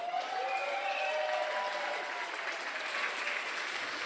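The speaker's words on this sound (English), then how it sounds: "make some noise for our catering staff." Wedding reception guests applaud for the catering staff, a steady wash of clapping and some cheering that holds at an even level for about four seconds with no talk over it.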